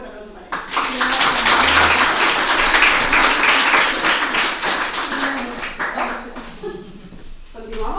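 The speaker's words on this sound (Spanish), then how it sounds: "Un fuerte aplauso para ella." Dense, steady applause from a speaking-club audience for the speaker Carmen after her speech. It swells quickly, holds loud for several seconds, then fades.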